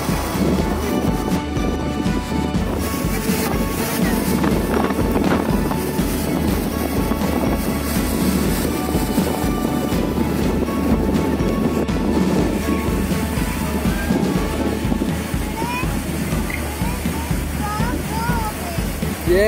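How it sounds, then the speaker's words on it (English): Big waterfall at Savdav falls in the Amboli Ghats of Konkan, a loud continuous roar of crashing water mixed with wind buffeting, steady throughout with a few voices faintly underneath. "Big waterfall."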